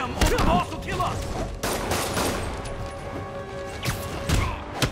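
Heavy explosions in the Spider-Man PS4 video game: several loud booming blasts and crashing impacts burst out one after another amid a busy combat scene, with game voices talking in between.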